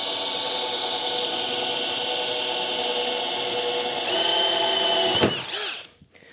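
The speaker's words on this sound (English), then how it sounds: "let's get a pilot hole here that our hole saw will sit into." Power drill boring a pilot hole in aluminum for a hole saw on a boat console, a steady loud whirring whine that rises slightly near the end, then winds down to a stop.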